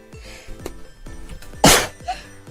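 A single sharp sneeze bursts out loudly near the middle amid quieter background sounds and music.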